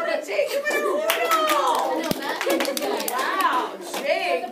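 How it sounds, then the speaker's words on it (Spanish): A high school Spanish class claps for a student, scattered hands slapping together under lively children's chatter and overlapping voices, close and fairly loud across the whole stretch. "¡Clase, un aplauso para Jake número uno!"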